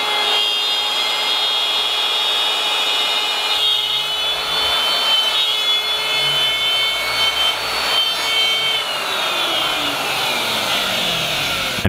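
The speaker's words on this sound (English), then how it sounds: "So let's plunge cut this all the way through the MDF." A router plunges through MDF on a circle-cutting jig to open a woofer hole, giving a loud continuous whine with a steady rasping cut that shifts in pitch near the end.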